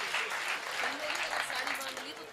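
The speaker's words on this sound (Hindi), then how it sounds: "जरा एक बार तालियां बजा दीजिए।" A crowd at a Hindi poetry gathering claps steadily, a faint, distant wash of applause lasting a couple of seconds with a voice speaking softly over it.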